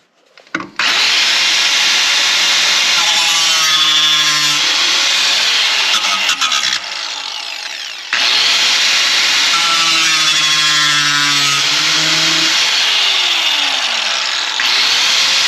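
Power saw cutting through the metal body of a rare Subaru XT6 car, loud and close, in two long continuous passes with a brief pause between, no talking.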